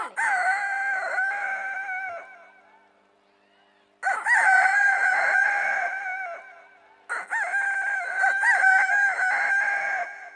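A performer on a comedy stage imitates a rooster crowing, three long, loud, quavering cock-a-doodle-doo calls separated by short pauses, clear and close.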